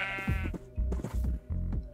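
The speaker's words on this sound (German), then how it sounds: "Schäfchen." Sheep in Minecraft bleating close up, several short wavering bleats in quick succession with brief gaps between them.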